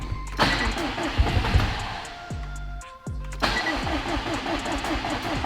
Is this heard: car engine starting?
yes